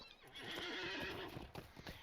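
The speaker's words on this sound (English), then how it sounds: "Call on my trusty steed." A horse steed summoned in the Lord of the Rings Online video game neighs and whinnies loudly, with a few clip-clop hoof steps toward the end, up close and with no talk.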